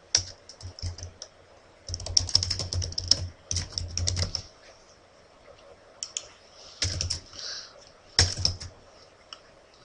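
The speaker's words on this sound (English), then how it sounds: "I'm trying to type fast here." Fast, uneven bursts of typing on a computer keyboard, close and crisp, with rapid key clicks broken by short pauses.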